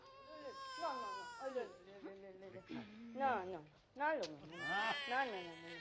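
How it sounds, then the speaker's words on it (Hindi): An infant cries continuously in wavering, rising and falling wails with short breaths between, close and fairly loud, in a scene from an old Hindi comedy serial. "बच्चा रो रहा है"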